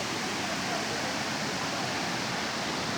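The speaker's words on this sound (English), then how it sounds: "this is the biggest artificial waterfall in the whole Balkan Peninsula" Biggest artificial waterfall in the Balkan Peninsula, a steady, dense roar of falling water, loud and unbroken throughout.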